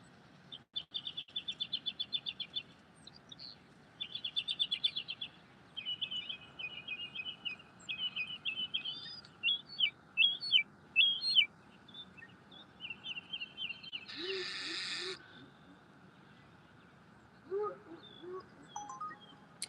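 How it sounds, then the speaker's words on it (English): Birds chirp and tweet in bright, rapid bursts of calls, repeated in quick phrases one after another, fairly close and clear with little background, during a livestream. "Oh, there's the bird is coming."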